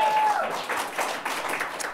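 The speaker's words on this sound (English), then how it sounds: "we know that's an authentic round of applause" A small studio audience claps in a short round of applause, close and steady, with a voice over it at the start.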